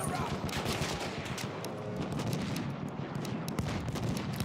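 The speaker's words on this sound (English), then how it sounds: "Enemy machine gun." Dense, continuous gunfire in a video game, with rapid overlapping bursts of enemy machine gun fire and explosions filling the whole stretch at steady loudness, a voice briefly heard beneath.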